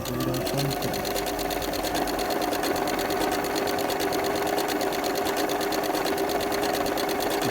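A sewing machine runs steadily, stitching a decorative finishing stitch on fabric with a continuous fast mechanical whir and rhythmic needle chatter, close and unbroken throughout.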